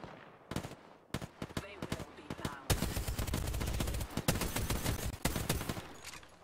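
Rapid video game gunfire: bursts of automatic shots, sparse and separated at first, then a dense sustained volley of loud cracks.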